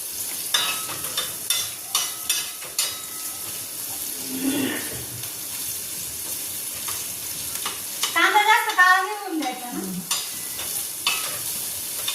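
Tomatoes roast in a pan with steady soft sizzling and occasional scraping strokes of a stirring spoon, fairly close, with a brief burst of running water midway and no talking.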